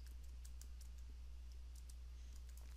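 Quiet, close typing on a computer keyboard while writing Python code, a quick run of light key clicks over a steady low hum.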